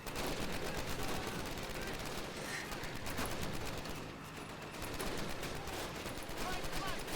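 Dense, continuous machine gun fire from a Call of Duty: United Offensive battle, sustained and loud throughout and mixed with a din of shouting soldiers.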